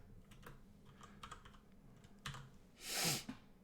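Quiet, uneven keystrokes tap on a computer keyboard, close and soft, ending with a brief louder whooshing rustle.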